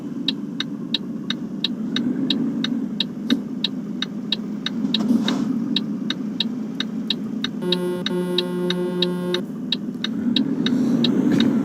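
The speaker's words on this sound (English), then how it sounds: "Traffic on the ramp is, wow, busy." Busy road traffic on a ramp rumbles steadily nearby with a running engine, while a regular ticking sounds throughout and a brief tonal beeping cuts in partway.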